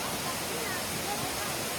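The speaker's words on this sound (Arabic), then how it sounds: "هاي هو شلالات زيرين" Zirin waterfalls on the Syrian coast, a steady broadband rush of falling water filling the whole clip, loud and close with no break.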